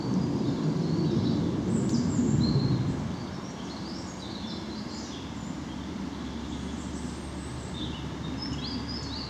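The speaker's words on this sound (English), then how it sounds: "Robins, plus what sounds like a member of the tit family that I can't see." Robins and a tit-family bird sing and chirp in short, high phrases against a steady low rumble of distant background noise, which fades slightly after a few seconds.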